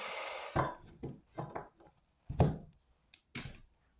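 A tarot card is drawn from the deck with a few sharp taps and soft slaps of card on card. They come in short, separate bursts that fade to a quiet close, with no voice over them.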